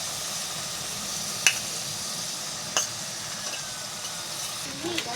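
Onions, green chillies and crushed garlic sizzling in a hot pan for a ridge gourd (kakoda) curry, a steady hiss with a couple of sharp stir clicks and faint talk nearby.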